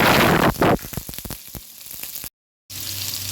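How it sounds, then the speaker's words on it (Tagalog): Garlic and onion hit hot oil in a pan for beef with oyster sauce, giving a loud, steady sizzle with a few clattering bursts, a short gap of silence, then the frying resumes. "Ngayon, magigisa na tayo. Lalagyan natin bawang. Sibuyas."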